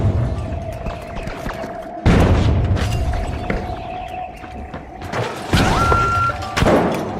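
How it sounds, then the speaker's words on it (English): Goo grenade and gas mine going off in the video game The Finals: heavy thuds and booms hit near the start, middle and end over a steady background hum of game noise. "Goo grenade out. Gas mine deployed."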